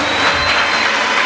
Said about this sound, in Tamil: நல்லா கை தட்டுறாங்க